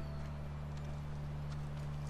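Horse hooves clip-clop faintly in The Last of Us Remastered, a soft irregular series of hoof taps under a steady low game drone.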